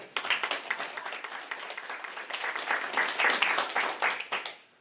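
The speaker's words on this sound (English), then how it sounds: "let's give a round of applause to all the hardworking and dedicated board members" Audience at a school board meeting breaks into applause, a sustained round of many hands clapping at moderate volume, rising slightly mid-way and tapering off at the end.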